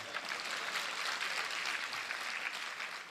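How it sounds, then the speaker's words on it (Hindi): An audience claps steadily in a lecture hall, a dense, even patter of many hands held at a constant level for a few seconds without pause. "आप ताली बजाना है तो ठीक से बजाइए आप"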